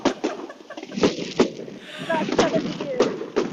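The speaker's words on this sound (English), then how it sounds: "all I can hear is fireworks" Fireworks go off at a Vendée Globe yacht's dock arrival, a run of sharp, booming bursts popping roughly every half second over cheering voices and chatter nearby.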